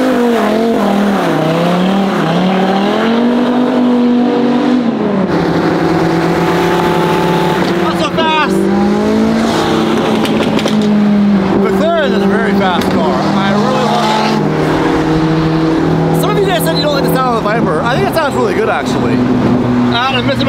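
Lamborghini Super Trofeo Evo race cars in an endurance race, loud engines rising and falling in pitch as they pass, with tire squeal and continuous roaring throughout.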